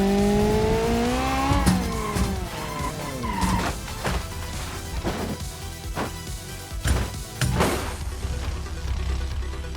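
A car driving in the BeamNG video game, the engine droning loudly and steadily throughout with rising revs and repeated tire squeals, no talking over it.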